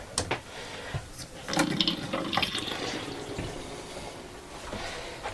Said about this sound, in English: Every faucet is going to get open right now.